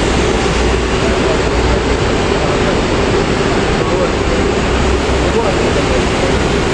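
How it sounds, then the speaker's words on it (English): An old train rolls past on the line between Maastricht and Liège, a loud, steady rumbling roar of wheels and carriages that stays close and constant the whole time. "We've got a train. Probably runs since Second World War."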